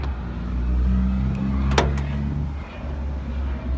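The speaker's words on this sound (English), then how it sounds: "Just pop open the back here." The rear door of a 2014 Toyota Landcruiser pops open with a single sharp latch click midway, over a steady low engine hum nearby.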